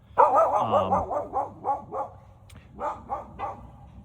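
A dog barks repeatedly at a campsite during a backpacking trip, a rapid run of close, sharp barks with a brief whine, then a few more barks after a short pause.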